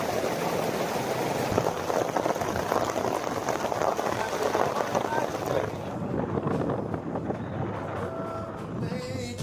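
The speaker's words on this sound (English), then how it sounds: "It's actually hailing and like heavy, heavy raindrops." Hail and heavy raindrops at Afrika Burn make a dense, loud drumming roar mixed with wind buffeting on the microphone, then ease off toward the end, with brief voices underneath.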